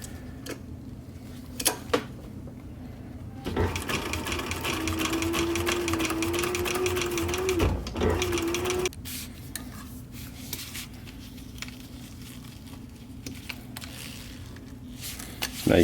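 A sewing machine stitches leather for a bike seat bag, running steadily for several seconds with a rapid mechanical whir, starting and stopping abruptly, amid faint handling noises before and after.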